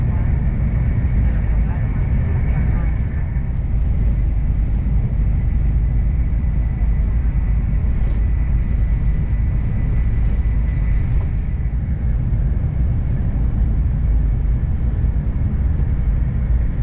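Steady low rumble and broadband rushing noise of a Renfe AVE S-102 high-speed train at top speed, continuous and even throughout, with a faint high whine.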